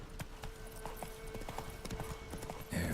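Roach, the horse in The Witcher 3, gallops with steady, rapid hoofbeats that drum close and loud against a low ambient hum, with no talking over them.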